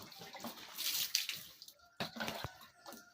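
Water poured over the body during a full ritual wash (ghusl), splashing close by in two uneven bursts with a short quiet gap between them and no talking.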